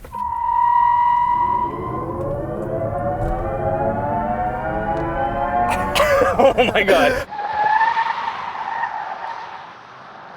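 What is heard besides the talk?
Genesis GV60 launch, tire squeal and futuristic EV sound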